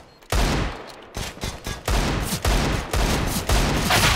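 Rapid bursts of gunfire in the shooter game CS:GO, several sharp volleys in quick succession after a brief quiet start, loud and close.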